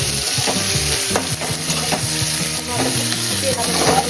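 Stuffed brinjal filled with garam masala, ginger, garlic and onion fries in oil while being stirred, giving a loud close sizzle with frequent clanking, scraping stirs throughout.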